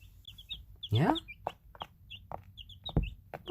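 Young chicks chirping in a brooder at feeding time, several short high peeps scattered across the clip with louder calls near the middle and end, close by, while a person talks softly.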